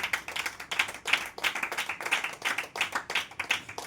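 A crowd clapping hands in a brisk, steady rhythm of sharp claps, fairly close and moderately loud, with faint voices underneath.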